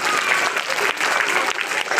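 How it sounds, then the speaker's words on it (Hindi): An audience at a Veer Bhagat Singh Yuva Dal event claps for Tappu Sena, a dense burst of applause from a crowd filling the moment with steady clapping. "टप्पू सेना के लिए तालियां बजा दो।"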